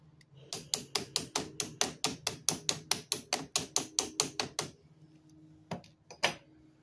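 Some twenty sharp, evenly spaced hammer taps drive a pin into the yoke of an X-Maxx RC truck driveshaft, up close on the bench, followed by a few looser clinks and handling knocks.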